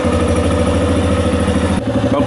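A Yamaha XT250 motorcycle idles during its warm-up: a loud, close, steady single-cylinder chug with a mechanical clatter. A brief dip and stutter comes near the end.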